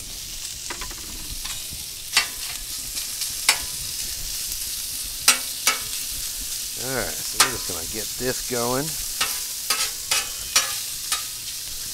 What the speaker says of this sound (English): Let that there bacon cook. All right, so that bacon there is cooking up nice.